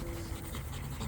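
A Rottweiler pants close by, giving a steady rhythmic breathy huffing with no one speaking.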